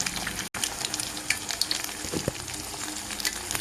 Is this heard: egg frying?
yes